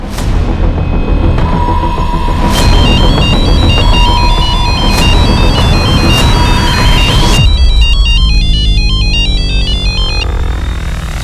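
A mobile phone rings loudly and alone, its electronic melodic ringtone cycling through a repeating pattern of bright beeping notes before switching to a faster, busier tune.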